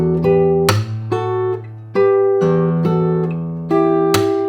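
A slow fingerpicked guitar melody with ringing notes, punctuated by sharp percussive slaps on the guitar body, close and clear with no talking.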